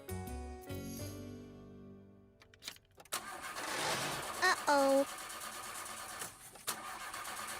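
A cartoon car engine cranks and sputters in cold, snowy weather, struggling to start, with a short voice reacting over the grinding, uneven revving.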